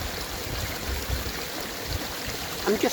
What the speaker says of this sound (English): lovely, protected from the wind area with the babbling brook behind